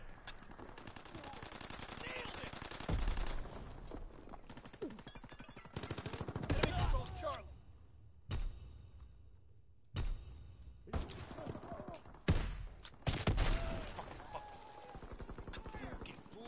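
Shotguns fire in the video game Call of Duty as a series of sharp, heavy blasts scattered unevenly through the scene, some loud and close, with game noise and voices in between.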